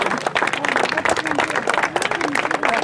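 Crowd applause for triathlon age-group winners at a prize ceremony, steady dense clapping throughout with a presenter's voice speaking over it.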